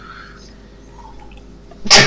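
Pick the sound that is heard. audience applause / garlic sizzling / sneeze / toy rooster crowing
sneeze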